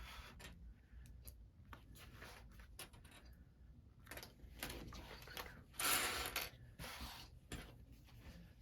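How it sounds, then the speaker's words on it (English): Sewing clips snapping onto the edges of bag fabric in a quiet sewing room, a string of small plastic clicks and snaps at an irregular pace with light handling rustle and no talk. "So we'll clip along the edges here."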